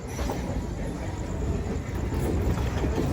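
The Nellore to Vijayawada MEMU Express rumbles along at speed, a loud, steady rolling roar with rhythmic wheel and carriage rattle heard from inside.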